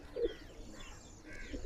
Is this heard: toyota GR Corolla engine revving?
no